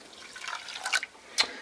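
Water poured from a cup onto a pan of sugar for simple syrup, a short, soft splashing trickle with a brief drip-like spatter at the end, close by and quiet.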